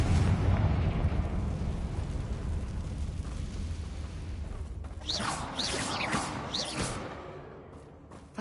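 Confringo explosive spell in the video game Hogwarts Legacy, heard as a long rumbling, roaring blast that fades gradually, followed by a few shorter whooshing bursts and crackles near the end.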